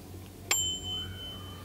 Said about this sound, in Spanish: Un pequeño timbre que tiene incorporado